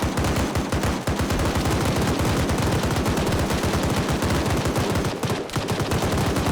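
Rapid, sustained machine gun fire from a Humvee-mounted gunner in a military video game, loud and continuous bursts with no talk over it.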